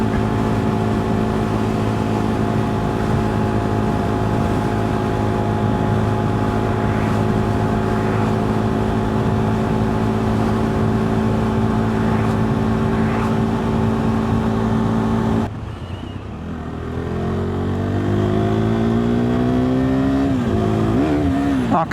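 A KTM 390 Duke motorcycle drones at a steady, loud engine pitch while riding, then abruptly drops as it jumps out of third gear, followed by revving that sweeps up and down, recorded close to the bike.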